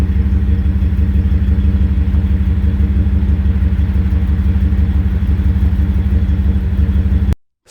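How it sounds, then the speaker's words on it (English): A 2011 Ford F-150 SVT Raptor SuperCrew with its Boss engine runs with a deep, steady rumble, loud and close, holding an even tone before cutting off abruptly at the end. "The Boss is more than enough engine for this truck, and it makes all the right noises."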